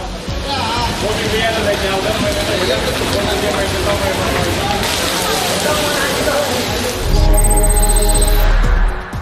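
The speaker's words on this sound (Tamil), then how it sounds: "சுமார் ஒரு மணி நேரத்திற்கு மேலாக பெய்த கனமழையால் சாலையில் மழைநீர் பெருக்கெடுத்து ஓடியது" Heavy rain that has poured for over an hour, with rainwater gushing along a road: a steady, loud, broadband roar of downpour and running water that swells near the end, with a voice talking over it throughout.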